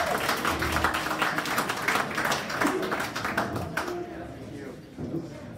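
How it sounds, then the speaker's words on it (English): Applause from an event audience after co-organizers are introduced at a blockchain investment gathering, a steady wash of clapping with scattered taps that fades toward the end, with some voices mixed in. "big round of applause."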